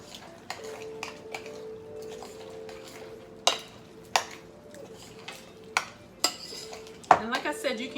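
Frozen peas and carrots from a 16-ounce bag being mixed in a bowl, heard as a series of sharp utensil clinks and knocks against the dish over a low background hum, growing busier at the end.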